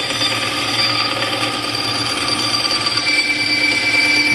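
A bandsaw cuts wooden letters by hand, giving off a continuous droning whir with a steady tonal hum and a faint higher ring as the blade runs through the wood.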